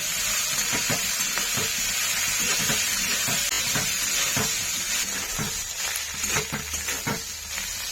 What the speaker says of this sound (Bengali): তো বুগলিগুলো তো ভালো করে ভেজে নিচ্ছি